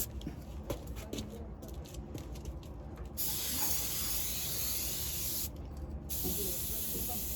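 A spray can of undercoating hisses steadily in long bursts up close on a 1972 Chevy C10 inner fender, with short pauses and faint handling noises between sprays.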